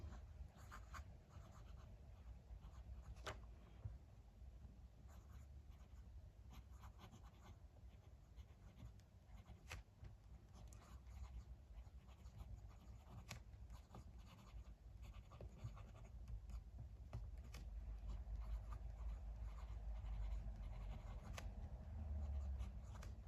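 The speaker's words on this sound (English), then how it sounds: "I have Clairefontaine 90 GSM paper here. Let's do a writing sample." Benu 'Beam Me Up' painted fountain pen with a number 6 steel Schmidt broad nib writing on Clairefontaine 90 GSM paper, a quiet continuous scratching and rubbing of nib strokes with brief pauses over a low room hum, no talking.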